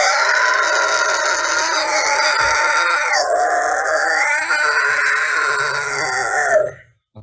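A singer practising screaming lets out a head voice fry scream with the mouth open, a harsh, raspy high-pitched sustained cry that wavers for several seconds before cutting off abruptly.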